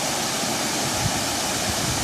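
Bolinao Falls in Pangasinan pours in a loud, steady, close-up roar of rushing water that fills the whole clip without a break.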